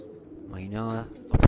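Domestic pigeons coo softly at a rooftop loft in Quetta, a short throaty rolling coo close to the microphone, ending in a louder burst of noise.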